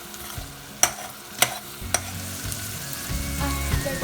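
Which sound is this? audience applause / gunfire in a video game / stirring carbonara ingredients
stirring carbonara ingredients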